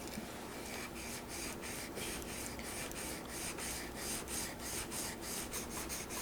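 A used flea-market chisel is rubbed back and forth on a medium-coarse sharpening stone, a close, steady rasping scrape in an even rhythm of repeated strokes with no talking.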